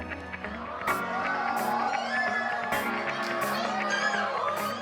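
Young children cheer and shout excitedly at the sight of two cute baby piglets, with high squeals and whoops bursting out over lively chatter and background music.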